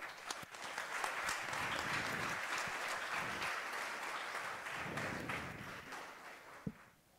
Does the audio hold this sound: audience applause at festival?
yes